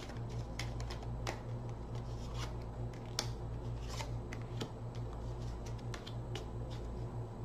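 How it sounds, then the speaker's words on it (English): Crisp, rapid riffling of tarot cards being shuffled repeats in quick bursts over a steady low hum, close by and with no voices. "One more shuffle."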